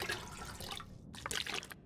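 Water drawn from a toilet in the survival game The Long Dark, a short, faint watery trickle and drip lasting about two seconds, heard without any talking.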